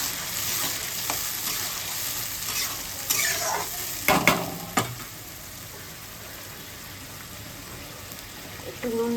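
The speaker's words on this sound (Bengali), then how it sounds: "মশলাটা ভালো করে নাড়িয়ে দিচ্ছি।" Spice masala stirred as it fries in a pan for chickpea curry, a low sizzle broken by a few clanking scrapes of a spoon against the metal midway.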